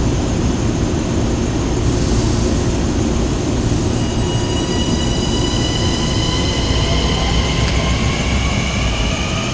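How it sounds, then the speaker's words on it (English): A Long Island Rail Road train on the Port Jefferson Branch rolls in with a loud, steady rumble of wheels on track, joined by high squealing tones from the wheels and brakes as it nears and slows. "Train 1568 running about 7 minutes late"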